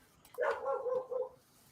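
A few dogs bark in a short excited burst from close by, several overlapping barks and yips over about a second, with no talk.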